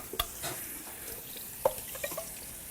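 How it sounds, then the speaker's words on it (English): Mayhaws being rinsed in water and poured between a pot and a strainer, with splashing and clattering pours, a few sharp knocks and a gentle wet rustle, fairly quiet, no talk. "And I run them through a rinse like this 2 or 3 times."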